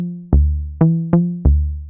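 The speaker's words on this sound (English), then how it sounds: "here's the loop I've got going on my Sub 37" A looping synth riff from a Moog Sub 37: four plucky notes with harmonic tones, each struck sharply and decaying, at an uneven rhythm, clean and close with no talk.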